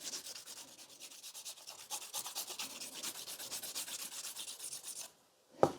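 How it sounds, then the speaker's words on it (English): A nail file rubs rapidly back and forth on a sculpted stiletto nail, close and steady with quick rasping strokes for about five seconds, then stops abruptly, followed by a brief click. "I still need to file a little bit more in here"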